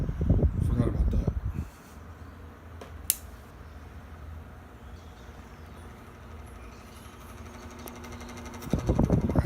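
A Panasonic 16 inch oscillating table fan runs with a steady low whir and a slight rattle, with brief bursts of nearby talk at the start and end.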